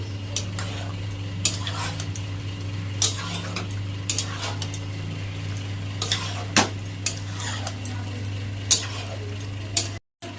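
A spoon stirs white sauce into pasta in a pan, giving irregular scraping clicks and taps against the pan over a steady low hum and faint sizzle, with no talking.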